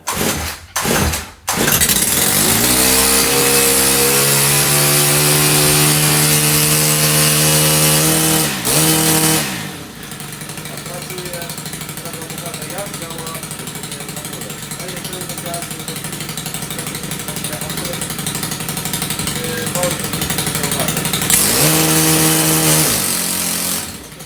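The small petrol engine of a STIHL BT 131 earth auger sputters, catches and runs at a loud, steady buzz, dipping once before revving hard again near the end.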